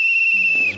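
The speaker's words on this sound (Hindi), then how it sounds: "आपके ऊपर चार सीटियां बजा दी" A referee-style whistle blown on a TV game show, one loud, sharp sustained blast lasting under a second, close and clear, ending with a faint low murmur.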